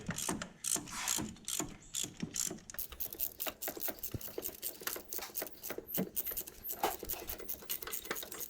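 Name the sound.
ratchet with long extension tightening gearbox top bolts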